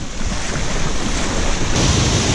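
A loud, continuous roar of a river waterfall mixed with heavy wind buffeting the microphone, constant and close with no speech.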